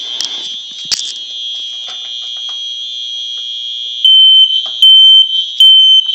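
Simplex home smoke alarm blaring a piercing, loud continuous tone close by, with harsher pulsing bursts near the end; no talking.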